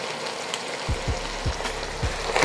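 Italian herb paste and tomato paste being stirred into a hot pot for lasagna soup, with a steady sizzle under a few soft, low scraping strokes of the spoon, close and alone.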